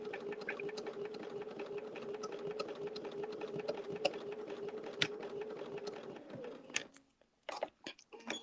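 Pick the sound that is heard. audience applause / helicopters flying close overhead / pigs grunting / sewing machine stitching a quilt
sewing machine stitching a quilt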